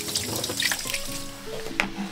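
Tap water running into a sink while raw crabs are rinsed by hand, a steady gentle stream close by with occasional splashes and clinks.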